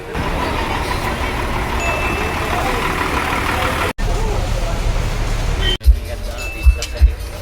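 Riding inside a moving bus: a steady low engine drone and cabin rattle, broken by two abrupt cuts, with a few thumps near the end and a voice talking over it.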